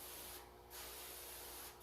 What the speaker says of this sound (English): Now that that's seeded in, I'm just going to go ahead and spray this in again.